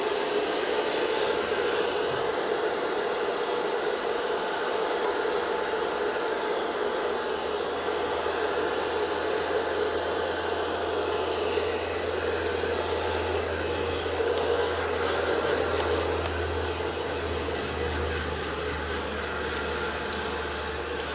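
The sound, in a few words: blow dryer on a metal barrel brush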